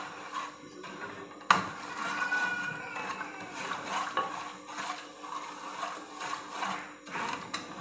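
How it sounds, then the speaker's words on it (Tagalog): Sugar being stirred in a pot until it melts for homemade popcorn, a close scraping and grating of a utensil against the pot in uneven strokes, with one sharp knock near the start. "haluin lang guys hanggang sa matunaw siya"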